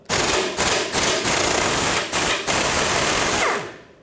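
Cross member bolts and 15mm and 18mm nuts come off a 2009-2014 Ford F-150 with a 5.4L engine in loud, close bursts of rapid mechanical rattling, several short runs and one longer one before it stops.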